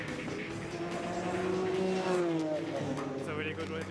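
A GT4 race car engine in a racing video game drones and shifts pitch as it accelerates, mixed under steady commentary talk.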